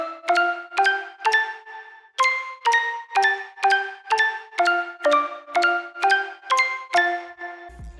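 Synth melody and chords built from Serum and a Splice one-shot: bright bell-like plucked notes played in a steady rhythmic pattern with stacked chord tones, clear and upfront with no voices.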